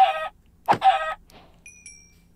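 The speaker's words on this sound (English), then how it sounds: "Let's go ahead and get the chicken." Minecraft chickens cluck in a few short, clear bursts close by, followed by faint high game tones, with no speech.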